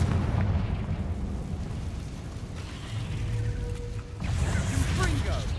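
Fiery Confringo spell blasts from Hogwarts Legacy, heavy booming bursts rumbling through the clip with a sharper crackling impact near the end, layered with voices talking.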